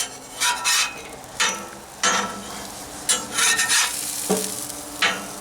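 Jalapeno popper chicken quesadillas crisping in a pan, heard as a soft sizzle under repeated close scraping strokes of a spatula, several distinct bursts spread across the clip.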